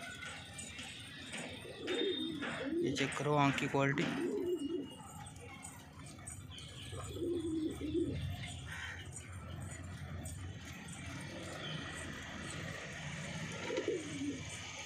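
Punjabi Malwai pigeons for sale coo in soft, repeated rolling calls close by, with bursts spread through the clip while someone talks intermittently over them.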